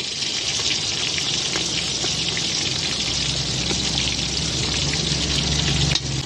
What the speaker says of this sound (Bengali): এইটুকু ভাজা হয়ে গেলে মাছটাকে তুলে নেব